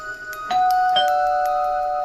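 A two-tone doorbell chime sounds, one note struck and then a second, both ringing on and slowly fading in a quiet room.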